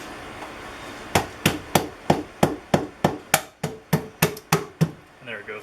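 Seized 1968 Fiat 850 engine being forced loose, a run of about fifteen sharp, evenly spaced knocking cracks as the hard seal gives way, then a short faint tail of other noise.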